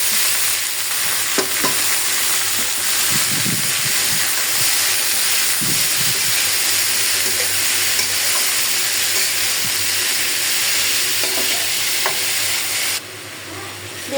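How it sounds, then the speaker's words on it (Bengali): Teasel gourd (kakrol) frying in a pan, with a loud, steady sizzle and hiss throughout and occasional faint stirring clatter, no talk, ending in a brief drop. "মাছ নামাইয়ে আমি এদিকে কারকল ভাজিটা আগে বসাইয়া দিই।"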